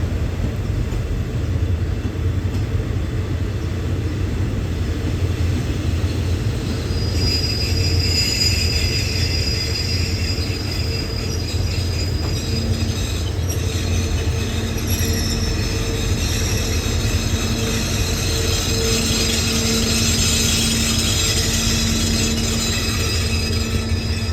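A Thai railway train hauled by a locomotive rolls steadily past at a Bangkok rail yard, a constant loud rumble of wheels on track with drawn-out metallic squeals rising and fading over it.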